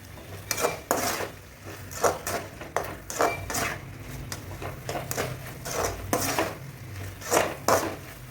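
Country chicken curry sautéing with mint and coriander leaves, heard as repeated scraping and clanking of a ladle against the pot over a soft sizzle, in an irregular stirring rhythm.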